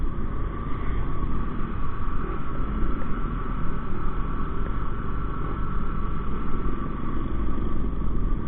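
A Rusi 100 motorcycle engine runs steadily at close range with a constant loud drone, no one speaking over it.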